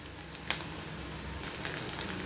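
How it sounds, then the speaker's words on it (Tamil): Onions and curry leaves sauté in a pan, giving a steady, soft crackling sizzle throughout with a few faint clinks, no voices. "இப்போ ஓரளவு வதங்கிட்டு இப்போ இந்த கருவேப்பிலையும் சேர்த்துக்கிடும். சேர்த்து வதக்கிட்டு"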